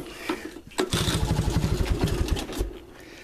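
Engine of a 1985 Honda ATC 200S three-wheeler cold starting after weeks unused, cranking then catching into a quick rhythmic putter that runs for a couple of seconds before fading, close and fairly loud.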